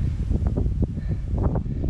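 Gusty wind buffets the microphone on the summit of Moose Mountain's South Peak in New Hampshire, a close, continuous low rumble with brief surges, and no talking.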